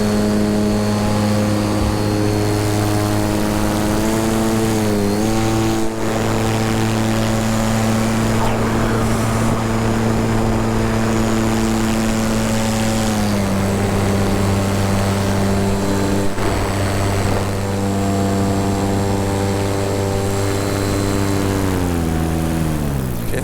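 An electric paramotor's propeller runs under throttle in flight, producing a loud, continuous, close motor whine and buzzing drone whose pitch steps up and down several times as the throttle shifts.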